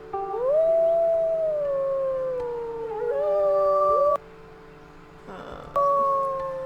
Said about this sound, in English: Let's maybe do a howl.